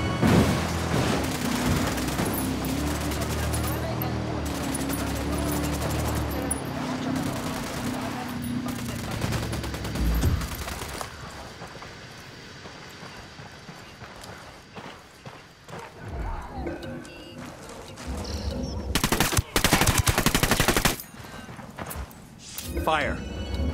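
Gunfire in a Ghost Recon Wildlands firefight, dense bursts and shots through the first half, thinning later, then a loud closer volley near the end, with engine rumble and game sounds underneath.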